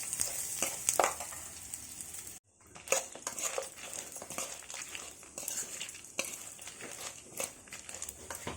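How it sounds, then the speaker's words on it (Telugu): Dry coconut and chana dal fry in a pan for a brinjal curry masala, a steady close crackling sizzle broken by frequent stirring scrapes and one brief silent gap, with no talk. "ఇవన్నీ గోల్డ్ కలర్ వచ్చే వరకు బాగా ఫ్రై చేసుకోవాలి."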